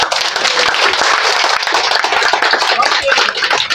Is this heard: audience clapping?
yes